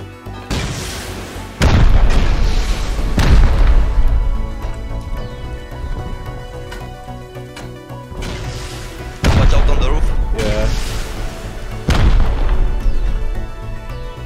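Rocket launcher rounds detonate in the survival game Rust: four heavy, booming blasts spaced several seconds apart, each with a rumbling tail, while players talk between them.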